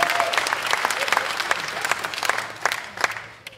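Concert audience applauding at a blues rock show in North Tonawanda, NY: dense, steady clapping from a sizable crowd, fairly loud and continuous, tapering slightly at the end.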